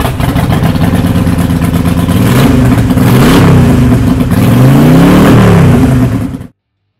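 A 2013 Harley-Davidson Sportster 883 Iron with an 883cc V-twin Evolution engine idles loudly, then revs up and down several times before cutting off abruptly, close and unaccompanied by speech.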